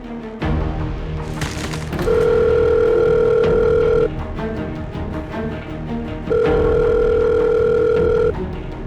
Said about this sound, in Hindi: फोन लगा रहा हूँ, फोन क्यों नहीं उठा रही है?